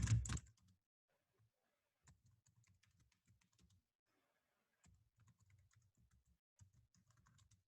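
Computer keyboard typing in quiet bursts of key clicks, a louder thump at the very start and then soft, fairly steady runs of taps with brief pauses, nobody speaking.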